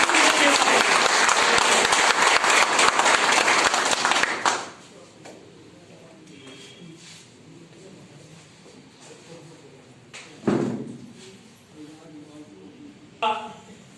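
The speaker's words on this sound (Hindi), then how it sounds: "आप सभी लोग अपने लिए तालियां बजाइए" A seminar audience claps for themselves in a loud, dense burst of applause lasting about four seconds before it cuts off, followed by quiet room tone and someone speaking.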